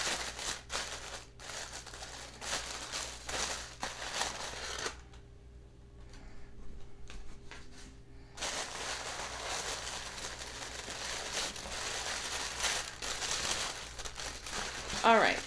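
Orange tissue paper crinkles and rustles as it is pulled out of a silver jewelry subscription box, in bursts broken by a short quiet pause, fairly close and soft.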